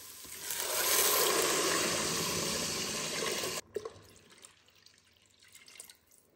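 Water pouring steadily into a pot of split peas with garlic cloves, a loud gushing splash that swells and holds for about three seconds, stops abruptly, then gives way to faint drips and small clinks.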